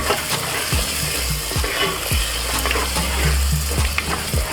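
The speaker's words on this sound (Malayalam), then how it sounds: "തക്കാളിയൊക്കെ നന്നായിട്ട് ഉടഞ്ഞു കഴിയുമ്പോൾ ഞാനതിനകത്ത് അല്പം കോൽപ്പുളിയുടെ വെള്ളം ഒഴിക്കുന്നുണ്ട്" Kerala fish roast masala with mashed tomatoes sizzles loudly in a pan as tamarind water is poured in, with a steady frying hiss and repeated scraping stirs, no talk.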